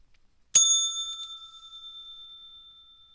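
A single bright bell strike, like a bicycle bell, closes out a live trading stream. It rings out once, clear and close, then fades slowly over about three seconds against silence.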